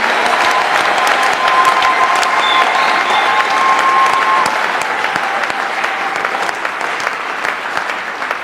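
A church congregation applauding for Jesus, loud sustained clapping from a large crowd, dense and steady, gradually easing slightly toward the end, with faint voices and a brief tone beneath.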